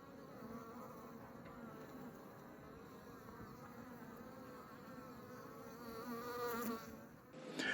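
Honeybees buzzing in a steady, dense drone during a beehive inspection, close and continuous, rising slightly louder near the end, with no voices.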